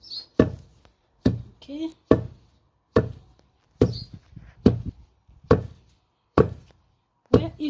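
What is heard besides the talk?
pounding seeds to crush them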